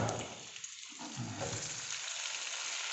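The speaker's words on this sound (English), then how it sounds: "I'm now going to add the onions, celery and mushrooms and let them soften." Chopped onions, celery and mushrooms sizzle in butter in a large pan, a quiet, continuous hiss of frying with soft crackles throughout.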